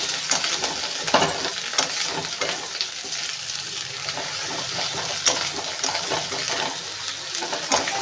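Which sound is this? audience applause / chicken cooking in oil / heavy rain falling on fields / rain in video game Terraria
chicken cooking in oil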